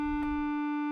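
A Moog Voyager synth lead holds a bright, buzzy sustained note rich in harmonics, with oscillator frequency modulation, steady and loud across the short moment.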